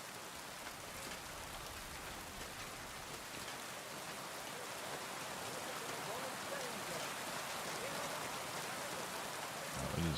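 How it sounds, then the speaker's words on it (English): Heavy rain pours steadily in the medieval open-world game Kingdom Come: Deliverance II, a dense continuous hiss, with faint talk underneath and a low rumble like distant thunder. "it is raining very heavily"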